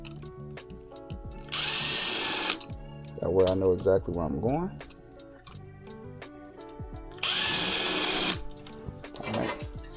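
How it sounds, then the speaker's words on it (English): A power drill pre-drills holes into brick for a TV mount, whirring in short bursts with pauses between, as someone talks over and between the drilling. "now that I got those pre-drills out of the way, I can actually crank my drill up and actually drill"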